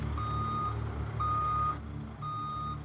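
A heavy haul truck moving mining equipment backs up, its reversing alarm giving three steady, evenly spaced beeps over a low, continuous diesel engine rumble.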